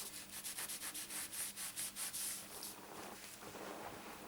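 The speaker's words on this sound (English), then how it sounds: "you need a cloth or kitchen towel or something and just rub over" A cloth or kitchen towel is rubbed over an embossed card to lift off spare ink, making quiet, rhythmic brushing strokes that repeat for a couple of seconds, then fade into softer scuffing.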